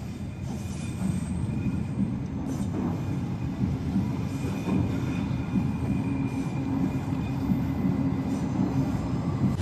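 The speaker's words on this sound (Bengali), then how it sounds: "ট্রেন যাচ্ছে।" A train passes in Switzerland near Interlaken Ost with a steady, loud rumble of wheels on rails, faint high squeals and a few soft clacks running throughout.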